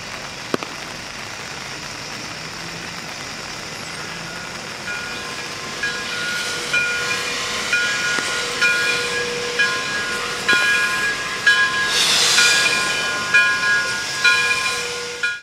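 Shay steam locomotive No. 5 of the J Neils Lumber Company moves out of a service area with a steady steam hiss. Rhythmic chuffs grow gradually louder, then a loud burst of venting steam sounds near the end.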